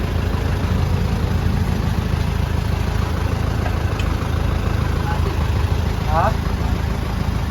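Isuzu 4JJ1 diesel engine idling steadily in a workshop, a constant low rumble throughout with a brief voice near the end.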